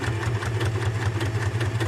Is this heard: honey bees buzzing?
no